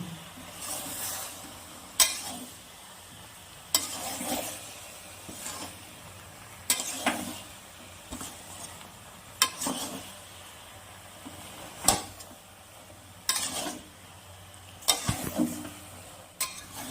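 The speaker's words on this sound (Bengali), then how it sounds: "আমি বেগুনগুলো দিয়ে আরেকটু মশলার সাথে কষিয়ে নেব" Eggplant pieces are stir-fried with spice paste in a pan: a low sizzle runs underneath, while a spatula scrapes and stirs in regular strokes every couple of seconds, each marked by a sharp clack.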